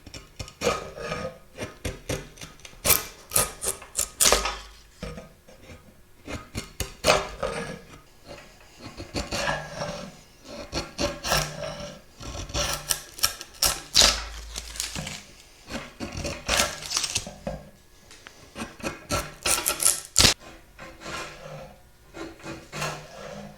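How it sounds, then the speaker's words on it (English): A draw knife is worked along an Osage orange bow stave, giving irregular bursts of close scraping and chipping with short pauses between pulls, and no talk. "I'm going to take my draw knife and I'm going to continue chipping away at this until we expose this one"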